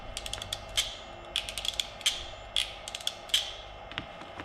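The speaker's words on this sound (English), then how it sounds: "Ratchet crimps." A ratchet crimper closes on a butt connector joining an earth cable and a handbrake cable, giving quick bursts of rapid metallic clicks in several separate squeezes, close and crisp with no talk.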